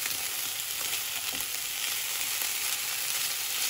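Kimchi fried rice with peas being stir-fried, a loud, dense, continuous sizzle with faint stirring scrapes, close up and with no talking.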